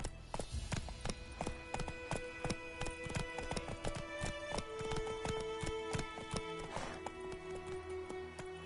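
Galloping horse Roach in The Witcher 3, loud and close hoofbeats in a fast, continuous clip-clop rhythm throughout, with a faint musical score underneath.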